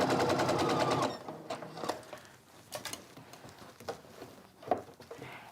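A sewing machine stitches a quilt top, its steady whirring hum running for about a second before stopping. Soft clicks and fabric rustles follow as the quilt is shifted.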